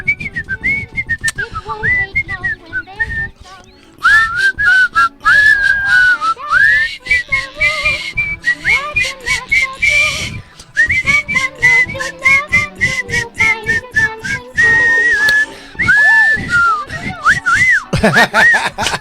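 Several people whistle loudly and continuously at a comedy talk show, shrill wavering tunes with quick breaks and trills, joined by bits of laughter and chatter in the room.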